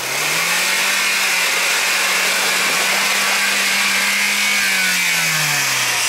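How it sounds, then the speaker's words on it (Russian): The engine of a Niva off-road car fitted with UAZ axles, driving on icy terrain, gives a loud, continuous ringing drone with a steady pitch that dips slightly near the end. "Так звенит мотор у него"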